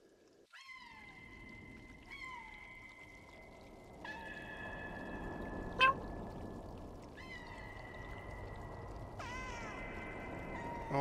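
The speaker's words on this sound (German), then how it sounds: "Oh, meine Freunde miauen." Cats meow in the video game Stray: about five clear, drawn-out meows spaced a couple of seconds apart, sounding close over a soft, watery ambient hiss.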